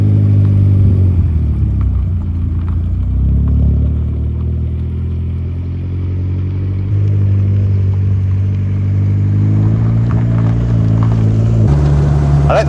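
A homebuilt Vauxhall Nova running a 300bhp Astra VXR engine drives along, its loud engine droning steadily, dipping and rising in pitch as it accelerates, with faint clatter near the end.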